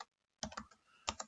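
Someone types a web search on a computer keyboard. Two short, close bursts of crisp key clicks are separated by a brief pause, with no talking.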